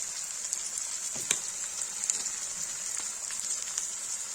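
Onions and spices fry in hot oil, a steady bright sizzle with occasional pops and crackles, close and continuous without talk.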